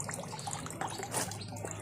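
Water splashes and trickles as clothes are washed by hand, a brief, close, continuous wet sloshing with no talk.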